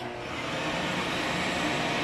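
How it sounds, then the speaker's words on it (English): A workshop vacuum's suction runs as a steady, loud, even hiss and whoosh that swells slightly after starting, then stays constant with no speech. "So I'm going to turn on the air, the suction here on the vacuum."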